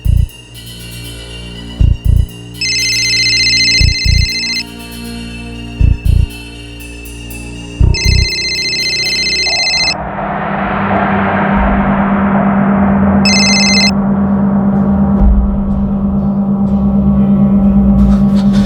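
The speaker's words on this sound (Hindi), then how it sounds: "रिंग तो ऊपर ही बज रही है" A telephone rings in repeated electronic bursts, with knocking thumps between them, then a steady hum and rumble take over as the rings continue intermittently.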